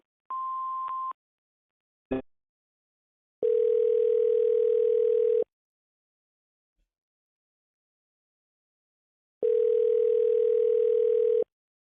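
Telephone voicemail tones over a phone line: a short beep, a click, then two long steady tones separated by silence, heard alone with no talking.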